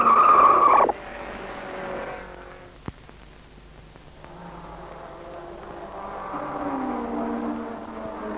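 A 1964 race car spins and skids on a circuit, its engine whining loudly at first, then cutting off, followed by a sharp knock and a quieter stretch as the car slides and the engine tone returns.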